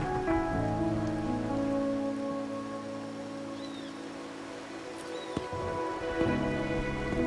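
Steady rain pours down on a rainy night in Raguna in Wuthering Waves, a continuous dense hiss of drops on surfaces with a low constant ambient hum, and a couple of faint brief chirps partway through.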